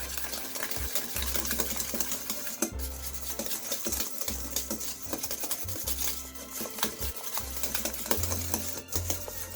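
Eggs being mixed into Christmas fruit cake batter, a continuous rhythmic whirring and scraping in a bowl with small clattering knocks, steady and moderately loud.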